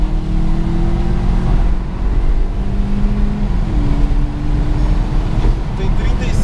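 A Volkswagen Golf GTE plug-in hybrid runs on its electric motor, giving a steady low cabin hum and road rumble at moderate loudness while a person talks throughout.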